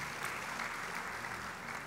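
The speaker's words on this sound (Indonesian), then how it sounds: "Mau tepuk tangan buat Tuhan?" A church congregation applauding, a steady, faint wash of many hands clapping together, heard at a distance with no voices over it.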